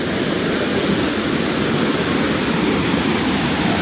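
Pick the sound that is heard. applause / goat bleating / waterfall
waterfall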